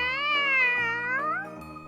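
A kitten gives a long, clear, wavering meow, loud and close, that bends in pitch near the end and then trails off, heard alone.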